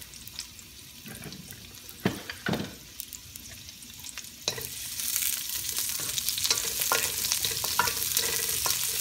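Onions go into oil in a wok for shrimp lo mein and start to fry, with scraping stirs and clatters at first, then a louder, steady sizzle that builds and continues to the end.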